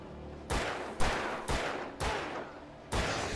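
Five separate gunshots from the video game Alan Wake Remastered, each a sharp, loud crack with a short decaying tail, spaced roughly half a second to a second apart.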